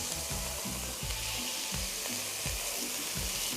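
Achiote oil sizzles steadily in a large pot as the base for an Ecuadorian potato soup, a constant close frying hiss with no voices and a rhythmic low pulsing underneath.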